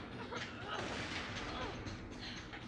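Dense, continuous gunfire and explosive booms from the shooter game Borderlands 2, with rapid bullet spam layered over a busy, loud wash of combat noise and no pauses.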